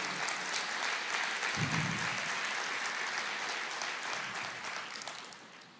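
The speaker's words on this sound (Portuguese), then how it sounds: "Aplauda o Senhor." A church congregation claps during a sermon, a thick, continuous wash of applause that holds steady for several seconds and then gradually tapers off at the end.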